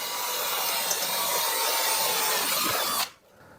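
Power drill boring through a metal folding table leg, a steady whining grind for about three seconds before it breaks through and stops.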